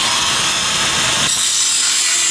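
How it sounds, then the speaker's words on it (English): Metal being cut with a power tool as the spring is removed from an old screw jack, making a loud, steady grinding rasp that shifts in pitch partway through, with no voices. "He just cut out the spring that pulls the jack foot up."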